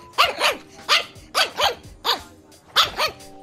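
A pug puppy barks in short, sharp pairs and single yaps, about eight quick barks in loose bursts, close and loud with quiet gaps between.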